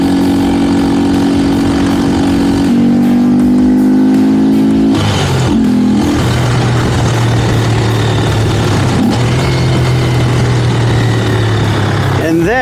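A Honda Grom motorcycle with an aftermarket air intake idles and revs close by, its engine note rising and falling through several short blips over a steady low drone.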